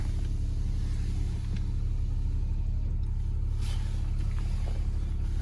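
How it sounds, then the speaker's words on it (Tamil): A vehicle engine rumbles steadily on a high mountain road at Bumla Pass in Arunachal Pradesh, a constant loud low drone with wind noise that stays close throughout, no voices. "இப்போ ஒரு வண்டி வருது."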